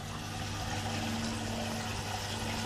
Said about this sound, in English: the water from the bell siphon coming out,